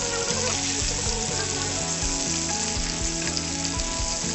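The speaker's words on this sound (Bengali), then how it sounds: "মাছগুলো ভাজা ভাজা হয়ে আসলে উল্টিয়ে দেব।" Fish pieces fry in hot oil in a kitchen pan, a loud, dense sizzle and crackle running throughout, with a few soft scraping stirs as they are turned; no voices.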